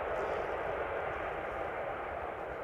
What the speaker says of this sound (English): this was the Dreamliner arriving from San Francisco, KLM flight 606, the 78710